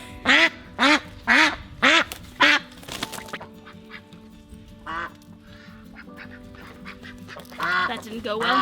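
Ducks being held on a homestead farm quack loudly and close, five rapid nasal quacks in a row, followed by quieter scattered quacks and a person's voice.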